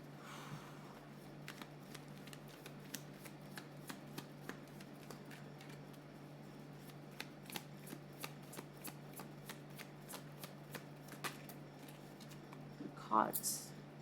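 A tarot deck is shuffled by hand, producing a run of quick, crisp riffling snaps in an irregular rhythm, close and fairly quiet, ending in a short burst of handling.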